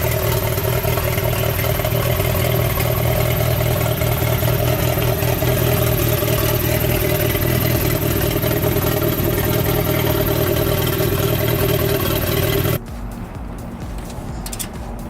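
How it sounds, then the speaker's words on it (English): A Mitsubishi Eclipse GSX engine idles steadily and loudly up close, a continuous mechanical drone with light clatter, then cuts to a quieter, thinner background for the final seconds. "Go ahead and turn it on so you can hear her idle."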